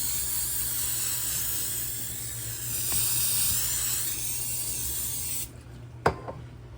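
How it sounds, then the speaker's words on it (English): Vegetable oil sprays onto chicken in a steady close hiss lasting several seconds, then cuts off, followed by a sharp tap. "So I'm gonna go ahead and spray it with some vegetable oil."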